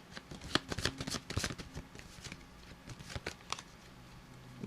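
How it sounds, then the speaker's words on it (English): A deck of tarot cards shuffled by hand, a run of crisp papery riffles and flutters close by, uneven in rhythm and with brief pauses, with no talking. "Let me just shuffle them again."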